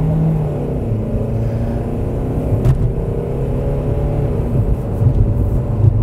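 A Nissan car engine idles and runs steadily up close, giving a continuous low rumble with a slight rise partway through and no voices over it.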